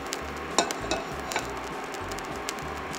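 A lemon and clove drink simmers in a pot on low heat, giving a steady soft bubbling with scattered light pops and clicks.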